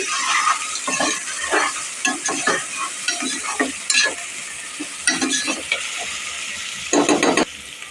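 Mint and curry leaves fry in hot oil in a pan for khichdi, with sharp sizzling bursts and scraping stirs that come in irregular waves up close.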